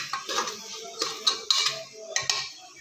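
Metal spoon scraping and clinking against a pan while stirring masala for palak pulao, a series of sharp metallic scrapes in uneven bursts, close and fairly clear with no talking.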